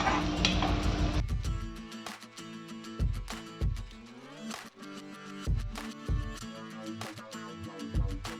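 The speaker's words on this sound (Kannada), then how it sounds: "ಒಂದು ತುಂಡು ಶುಂಠಿ ಹಾಕಿದ್ದೇನೆ ಒಗ್ಗರಣೆ ಮಾಡುವಾಗ" Garlic and ginger tempering in a pan, with repeated spoon stirring scrapes and soft sizzling in close, regular strokes, under background music.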